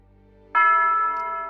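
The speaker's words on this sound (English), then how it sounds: "The bell has tolled." A church bell tolls once with a sudden loud strike, its bright ringing tone holding and slowly fading in a quiet space, alone.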